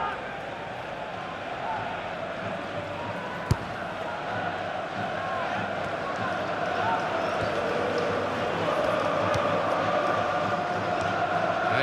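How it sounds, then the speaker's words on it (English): Crowd at a football match in the FIFA 16 video game. A broad, continuous roar fills the stadium and swells slightly toward the end, with one sharp thump early on. "And the crowd really enjoying it."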